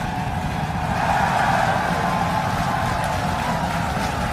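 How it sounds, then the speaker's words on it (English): Starship rocket lifting off with Booster 12, a steady, dense roar of engine noise heard from a distance, continuous and unchanging throughout. "We have liftoff."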